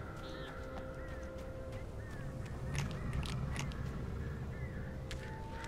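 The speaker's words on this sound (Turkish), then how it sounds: "Yine kuşlar." Crows caw repeatedly across the scene in the Alan Wake video game, short harsh calls at a moderate distance over a steady low ambient rumble, with no talk.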